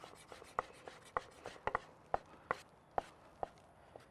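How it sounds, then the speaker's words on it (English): A knife chopping smoked Gouda finely on a cutting board, with a dozen or so sharp, irregularly spaced taps standing out over quiet kitchen background noise. "Let's use this knife. And you just want to chop it up as fine as you can."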